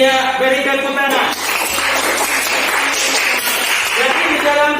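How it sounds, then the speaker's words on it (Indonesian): Children applauding in an Indonesian primary school lesson, a continuous wash of clapping mixed with young voices and a teacher speaking over it, loud and close throughout. "beri tepuk tangan"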